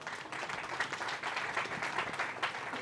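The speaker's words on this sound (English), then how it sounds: "Let's clap better, please." Audience at an International Youth Day commemoration clapping, a steady, moderately loud wash of applause from a crowd over a few seconds.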